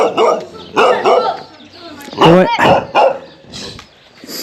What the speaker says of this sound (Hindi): यहाँ पे कुत्तों से बहुत डर लगता है यार, मुझे भौंक रहा है ये